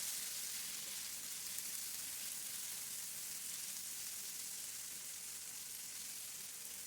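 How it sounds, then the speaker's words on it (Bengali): Chopped tomato and onion frying together in a pan while cooking a small fish dish, giving a steady, soft, even sizzle that stays level throughout with no talk. "টমেটো কুচিটা পেঁয়াজের সাথে একটু ভেজে নিব।"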